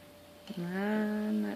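A cat gives a single close, drawn-out meow that rises and then holds steady for about a second against a quiet indoor background.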